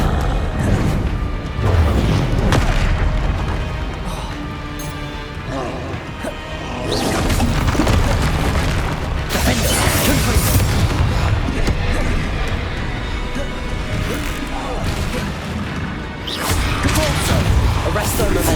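Incendio fire spell bursts in Hogwarts Legacy combat arrive as repeated loud crashes, whooshes and thuds over nearly twenty seconds of dense game action, with voices breaking in now and then.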